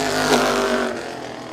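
Modified race car out on the track at Birch Run Speedway, a brief loud engine drone that peaks and then fades slightly as it passes.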